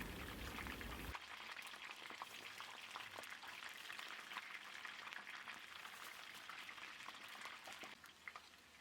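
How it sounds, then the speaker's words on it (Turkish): Yufka pastry sheets fry in oil, which crackles and sizzles continuously with dense popping, a busy frying hiss that holds steady throughout without any talking. "Ve diğer yufkalarımı da kızartıyorum."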